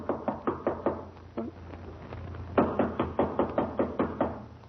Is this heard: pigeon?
no